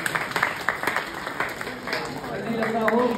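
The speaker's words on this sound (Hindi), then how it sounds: "चलिए ताली बजा के आशीर्वाद दीजिए" An audience clapping in blessing for children at a ceremony, a ragged burst of applause with scattered claps and voices talking over it, building slightly toward the end.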